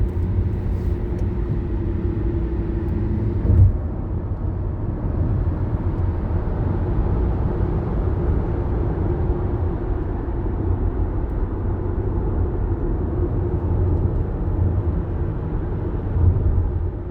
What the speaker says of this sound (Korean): 평균 시속 100km 단속 구간 주행 중입니다.